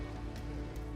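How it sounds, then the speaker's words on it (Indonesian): Rain falls steadily over one continuous second, a dense hiss of drops on a surface with a low rumble beneath, close and fairly loud with no voices. "Aduh, hujan lagi."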